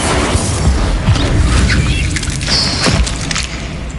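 An Incendio fire spell blast in the video game Hogwarts Legacy, a loud, dense roaring burst with crackling impacts and a brief whooshing streak, sustained throughout amid other combat noise.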